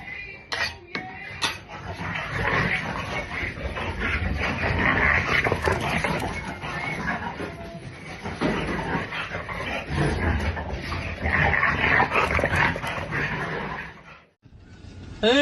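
Two playful dogs snuffle, pant and whimper close by, running between a woman's legs as she fixes a wall, amid scuffling and clattering movement, the activity rising and falling before a brief pause near the end.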